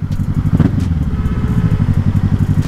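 A 2019 Kawasaki 1000cc motorcycle engine runs with a deep, continuous pulsing rumble that swells slightly on the throttle. It is loud and close, with a steady throb and no voices.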